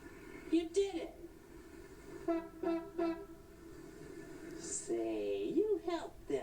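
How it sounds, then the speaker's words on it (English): Honkers from Sesame Street honking, several short horn-like toots in separate bursts with a voice and other speech mixed between them. "Honk."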